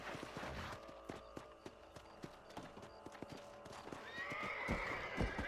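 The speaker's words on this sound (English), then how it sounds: "Olha o cavalo, velho." A horse in Red Dead Redemption clops its hooves in an uneven, close rhythm, then lets out a drawn-out neigh toward the end, with game sounds in the background.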